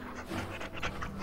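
A dog pants in the video game Dragon Age: Origins, quick rhythmic breathy huffs heard close and fairly soft, with no speech over them.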